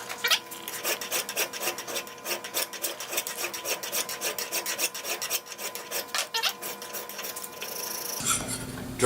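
Draw filing on a metal drill gauge with a hand file makes a long run of close, scratchy rasping strokes in an uneven steady rhythm, ending with a brief different rub.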